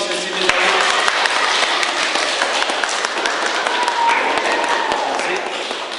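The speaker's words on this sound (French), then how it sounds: "Alors on applaudit encore une fois pour Sensei Misaru." Audience applause after a martial arts demonstration by a sensei, a dense steady wash of many hands clapping at close range for several seconds, with faint voices mixed in.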